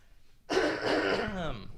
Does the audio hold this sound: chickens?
no